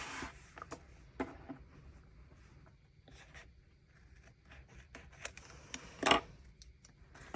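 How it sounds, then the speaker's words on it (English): Scissors snipping paper cup cutouts for a coffee-themed journal spread, quiet close crisp snips scattered irregularly with soft paper rustling and handling noises, no talk. "So I'm gonna get the cups and trim them."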